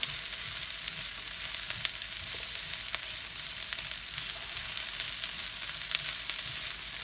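Cabbage for rumbledethumps hisses steadily in a hot pan, a bright, even sizzle punctuated by faint scrapes and taps of stirring.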